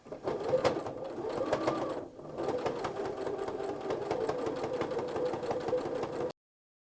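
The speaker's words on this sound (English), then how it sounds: "keep that edge of your placemat with the edge of your presser foot and sew all the way around" A sewing machine stitching around the edge of a fabric placemat, a steady close mechanical whir that pauses briefly, then runs on at an even pace before stopping.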